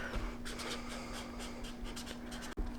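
A pen scratching on paper in a planner, with short, quiet, close writing strokes over a low steady hum, no talking.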